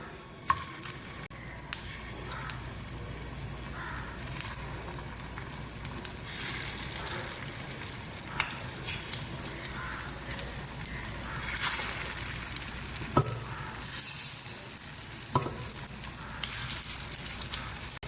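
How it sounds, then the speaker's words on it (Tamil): Stuffed bitter gourd frying in hot oil in a wide pan, a steady dense sizzle running throughout with occasional louder crackles and pops. "இந்த மாதிரி ஒரு வைட் பேனில் நல்லா எண்ணெய் ஹீட் ஆகிடுச்சு. இப்போ நான் ஒரு பாவக்காவாக போட்டுக்கிறேன்."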